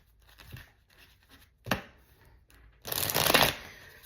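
Playing cards are shuffled at a table, a few soft riffles and taps building to one loud, close riffle-and-bridge burst near the end, with no talk over it.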